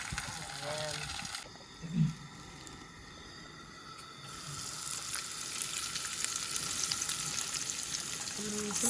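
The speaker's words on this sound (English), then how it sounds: "Sizzle, sizzle" Steady crackling sizzle of a fish fillet frying in a pan, with a brief thump and some faint background voices.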